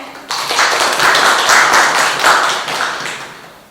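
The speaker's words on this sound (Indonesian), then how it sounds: "Tepuk tangan dulu dong semuanya" Students in a school guidance-counselling session clap their hands together, a dense burst of fast claps that starts abruptly, holds steady for a few seconds and then tapers away as the clapping thins out.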